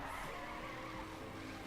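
In the racing game The Crew, a car's tires screech and skid continuously under engine roar after nitro fires in place of braking, the sound close and steady throughout.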